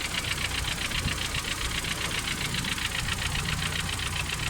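A car engine idles steadily with a rapid, even ticking rhythm throughout, close and continuous, no voices, no longer misfiring after a high-tension wire fault causing sparking was addressed.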